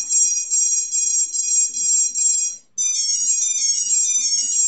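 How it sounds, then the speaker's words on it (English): A BLHeli electronic speed controller plays its calibration chime: steady loud high-pitched tonal beeping that runs continuously, drops out briefly near the midpoint, then resumes with a slightly shifted pitch pattern, heard alone without talk. "It's going to make a little bit different beep chime than normal"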